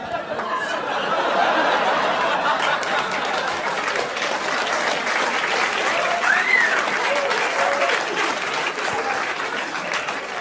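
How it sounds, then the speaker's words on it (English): A comedy club audience applauds loudly and steadily at a stand-up show, a dense clapping wash mixed with scattered chuckles and laughter. "You all just clapped for a dead baby."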